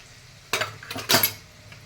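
A spoonful of cumin seeds goes into hot oil in a pan while cooking a val bean pod vegetable dish. Two quick metallic clinks of a spoon against the pan are close and distinct, with a faint sizzle between them.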